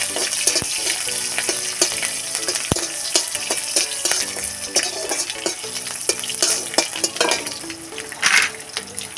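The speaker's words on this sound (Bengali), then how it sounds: "আমি এইভাবে এটাকে ভালো করে ভেজে নিচ্ছি" Semolina snack mixture with green chilli frying in a pan, a busy sizzle broken by frequent clinks and scrapes of a utensil against metal, close and continuous, with no talking.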